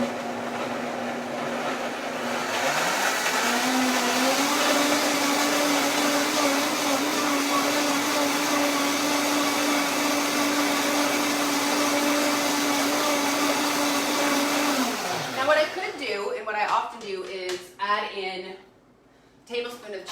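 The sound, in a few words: blender blending strawberries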